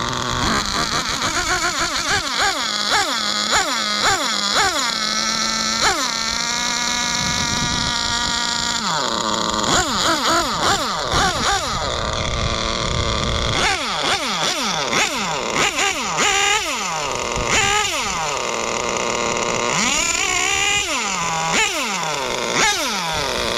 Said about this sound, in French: On va faire le démarrage, on va regarder si la boîte elle passe comme ça en statique